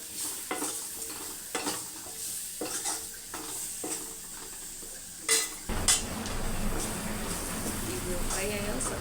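A pan of food frying and being stirred at home, with repeated scraping strokes of a spoon over a soft sizzle, then a louder, denser sizzle as the pan heats up.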